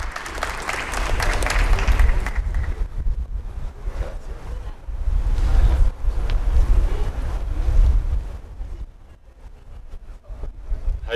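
An audience applauds to welcome Colonel Otero, a retired USAF officer, at a Del Mar campus heritage event. The clapping is rough and is muddied by heavy wind-like rumble on the microphone. It swells in waves and then fades toward the end.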